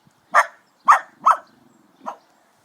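Dogs at an inn bark four times in short, loud, close yaps, the last one softer, with no talk.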